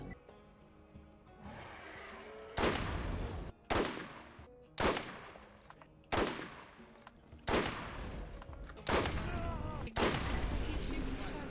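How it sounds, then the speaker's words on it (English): Shotgun blasts in the video game Borderlands, about seven heavy booming shots at roughly one-second intervals, each with a short decaying tail over a quieter game background. "He shoots his shotgun"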